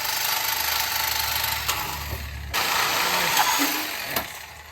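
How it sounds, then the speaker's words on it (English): An angle grinder with a 12-inch carbide cutoff wheel cuts through exhaust manifold bolts during a Ford F150 engine teardown, giving a harsh, loud, hissing grind that pauses briefly midway and then resumes. "a new cutoff wheel for the angle grinder so I can get these exhaust manifold bolts cut"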